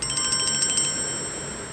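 A Samsung Galaxy S7 "Chime" ringtone plays a quick run of bright, repeated bell-like tones for about a second, then rings out and fades, heard alone and fairly loud.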